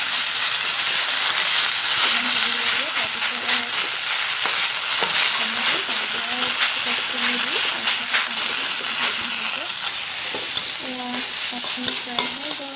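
Moringa leaves fry and sizzle in a hot pan with a paste of ginger, garlic, chilli and rice flour, a continuous bright hiss broken by scraping and stirring clinks, with a voice speaking over it.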